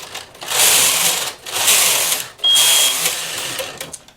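A knitting machine carriage slides back and forth while doing lace transfers for shaped lace with short rows, three loud whooshing, rattling sweeps close by, separated by short pauses.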